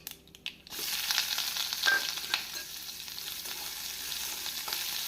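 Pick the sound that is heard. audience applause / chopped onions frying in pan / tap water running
chopped onions frying in pan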